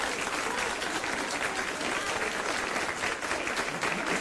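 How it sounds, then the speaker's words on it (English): An audience at a public meeting about the Barcelona terror attack breaks into steady, dense applause that fills the room without pause, loud and close. "save your applause till the end."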